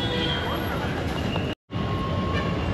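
Train rumbling at Chennai Central railway station, a steady close roar with faint squealing overtones, cut by a brief moment of silence partway through.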